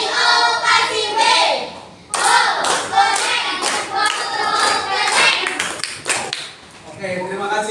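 A primary school class claps a rhythmic group cheer together, sharp claps and taps in quick patterned bursts, with children's voices and a teacher talking over and between the claps.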